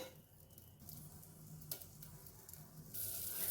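Peas and corn sizzling in a pan as they are sautéed for a pumpkin and beetroot soup, a steady soft frying hiss with a few light stirring ticks and a brighter burst near the end.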